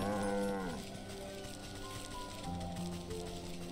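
A cow in the video game Wytchwood gives a drawn-out moo, starting loud and rising then sliding through several pitch shifts, with a second lowing phrase near the end, fairly close and alone.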